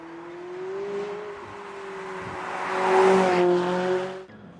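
A McLaren 570S with a 3.8-litre twin-turbo V8 is driven hard, its engine droning steadily and rising to a louder, strained peak as it accelerates before easing off.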